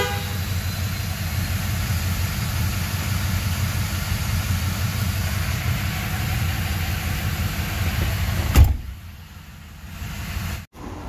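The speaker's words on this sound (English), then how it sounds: "Cranking nice and fast." An old car engine turns over and runs with a steady, loud rumbling drone in a shop, ending abruptly after a sharp thump, with a quieter tail afterward.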